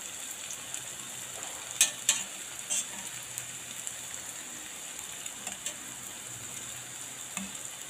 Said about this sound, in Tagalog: At habang piniprito natin ang tokwa